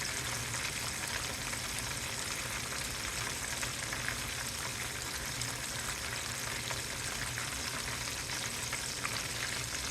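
Deer steaks frying in oil, a steady dense sizzle and crackle of bubbling fat that stays close and fairly even throughout, with no voices.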